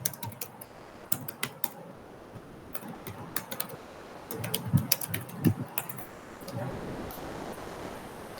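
Code being typed on a computer keyboard during a Flutter app development workshop, with irregular clusters of sharp key clicks, some quick runs and pauses, heard close over a faint room hiss.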